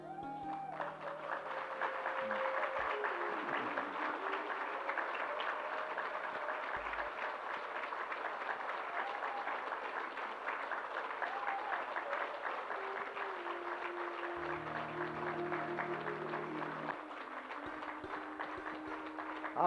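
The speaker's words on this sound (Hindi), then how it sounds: "तालियां तुम बहुत बजाते हो।" A large audience claps in sustained applause, a dense continuous patter of many hands that holds evenly throughout, with faint crowd murmur underneath.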